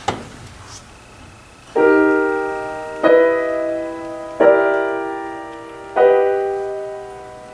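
The earth theme from Scriabin's piano music sounds as four loud, full, grinding piano chords. Each is struck about every one and a half seconds and rings out and decays before the next, with no talking.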